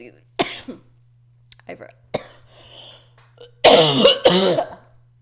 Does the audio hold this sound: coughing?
yes